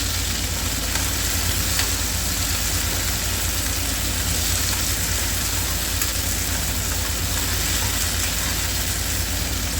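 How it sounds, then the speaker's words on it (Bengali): Shrimp fry lightly in a pan over high flame with a steady, broadband sizzling hiss that never lets up, and a low rumble sits beneath it. "এগুলোকে একটুখানি আগে হালকা ফ্রাই করে নেব"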